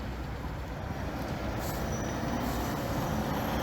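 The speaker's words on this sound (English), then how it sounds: "There's some cars moving towards." Cars and trucks moving along a road, heard as a steady, distant, low rumble of traffic with faint engine drone and no voices.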